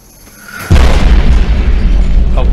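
A Fat Man mini-nuke detonates in Fallout New Vegas, a sudden huge booming blast that follows a short rising whoosh and then rolls on as a loud, sustained low rumble.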